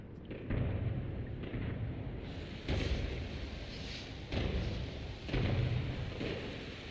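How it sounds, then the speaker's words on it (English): Fireworks burst in the video game No Man's Sky, with a run of deep, booming thuds and rumbling blasts at irregular intervals over a continuous low roar. The bursts are loud and full-bodied, with no talking. "These guys don't half love their fireworks."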